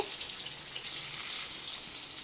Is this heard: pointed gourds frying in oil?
yes